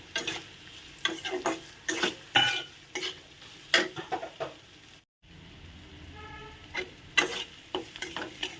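Grated coconut stirred into spiny gourd in a pan makes repeated close scraping strokes over a soft sizzle, with a brief silent gap midway.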